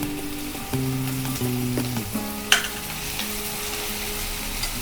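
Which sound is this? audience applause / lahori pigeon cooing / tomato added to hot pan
tomato added to hot pan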